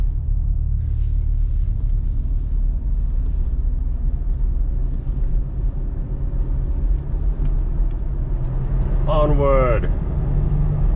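Steady low rumble of cars driving in busy traffic, heard from inside a moving vehicle as continuous road and engine noise, with a brief voice near the end.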